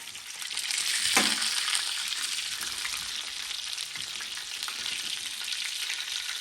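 Shrimp frying in a cheap $20 Amazon electric cooker, a steady close sizzle with a brief sharper crackle early on, no voices.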